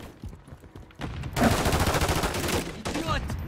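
Gunfire in Call of Duty Modern Warfare 3 beta multiplayer, a dense sustained burst of rapid automatic shots, loud and close, after a quieter lead-in.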